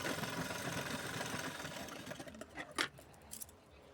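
A sewing machine stitching the lining of a size-31 blouse runs in a steady, close mechanical whir that breaks up and fades in the final seconds, with no talk.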